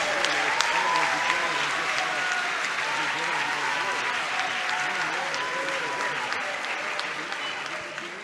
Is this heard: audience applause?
yes